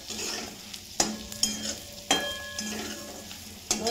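Masala being stirred into ridge gourd in hot oil in a pan, a steady soft sizzle under repeated scraping stirs with a few sharp spoon clacks against the pan.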